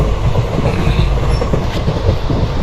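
Passenger train running on the railway between Tirupur and Chennai, a loud, steady rumble of wheels on track with continuous rattling, heard up close from on board.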